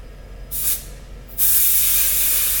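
Air is let out of a dirt bike tire through a pressure gauge. Two short, sharp hisses sound close by, followed by a louder, continuous hiss that keeps going to the end.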